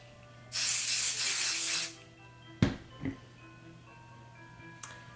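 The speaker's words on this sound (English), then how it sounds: "Next we're going to spray temporary spray adhesive here." One steady hiss of temporary spray adhesive from an aerosol can, sprayed onto fabric for a plush toy, lasting just over a second, followed by a few sharp clicks and taps nearby.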